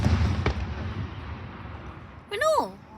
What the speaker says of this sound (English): I guess we're scared of fireworks.